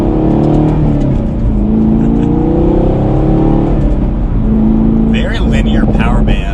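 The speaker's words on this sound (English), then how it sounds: "All right, so a little bit of an acceleration now." A 2019 Chevrolet Camaro SS 1LE with a manual transmission accelerating, its engine droning loud and close and rising through the gears, while someone talks over it.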